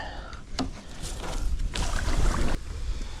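Steady wind blows over an open lake during bass fishing from a boat, a broad whooshing noise with gusts that swell around the middle and ease off near the end, with no talk.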